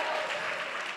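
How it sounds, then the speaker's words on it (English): A studio audience cheers and applauds in a short burst of bright, dense clapping and whooping that fades slightly at the end. "Yes, you can cheer, yes."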